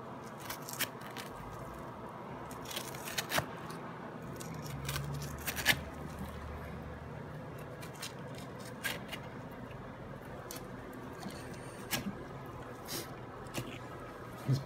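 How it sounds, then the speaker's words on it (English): A knife cuts through the bone of a large opah, or moon fish, with a string of sharp, close snips and crunchy clicks at irregular intervals over a steady background murmur. "that's the bone part. Right there that he's cutting."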